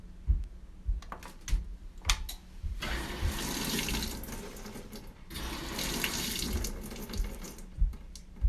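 A General Electric washing machine set to speed wash starts up and fills, with steady rushing water running loud and close for long stretches, broken by a few sharp clicks and knocks of the machine.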